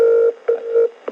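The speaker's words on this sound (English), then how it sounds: "Phone's ringing." A telephone rings on a line during a call being placed to the Libyan embassy in London, giving two long steady electronic ring tones separated by a short gap, loud and clear with no talk over it.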